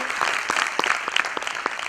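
Audience clapping at a celebrity guest event at an acting academy, a steady wash of many hands with sharp individual claps popping out, fairly near and continuous for the whole stretch, with no talking over it.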